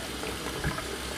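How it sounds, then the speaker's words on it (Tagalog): Water poured back into an aquarium tank fitted with a drill-free overflow, a continuous close trickling and splashing that stays even and moderately quiet throughout, with no voices. "Ngayon kung lalagyan ulit natin siya ng tubig"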